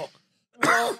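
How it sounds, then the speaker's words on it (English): A man gives a short throat clear, then after a brief silence a louder, harsh cough up close. "The cough is back, by the way."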